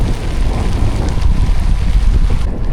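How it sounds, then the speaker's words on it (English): Light rain easing to a drizzle falls as a steady, even hiss with a low wind rumble mixed in, continuous and fairly loud throughout, with no voices. "The rain has eased off a little bit."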